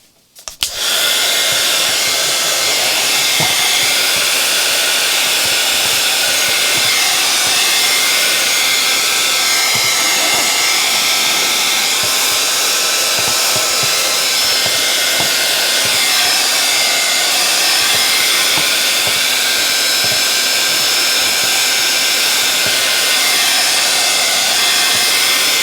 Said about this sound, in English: A little bit more heat gun.